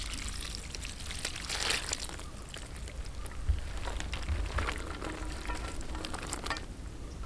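Hot ghee carrying fried cashews is poured over boondi for laddu, giving a steady soft sizzling hiss with a brief pouring splash near the middle and no talk.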